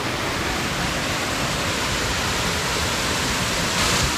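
Jamge Waterfall roars in a loud, steady broadband rush of falling water heard close by, unbroken and with no voices over it.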